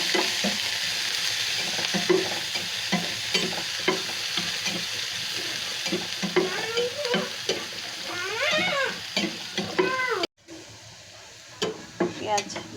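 Onions frying in hot oil in a frying pan, a steady sizzle with occasional stirring, while a voice talks over it and a brief cat-like meow appears near the end.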